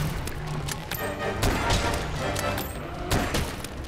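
Rapid gunfire from a weapon in the video game Monster Hunter World, a dense, continuous barrage of shots with a few heavier booming hits, loud and steady throughout.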